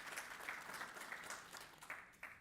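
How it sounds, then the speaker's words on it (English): Audience applause breaks out during a panel discussion at FHS Africa 2026, a steady patter of many hands for about two seconds with a few sharper claps near the end, moderately distant and fairly quiet. "I heard the clap coming."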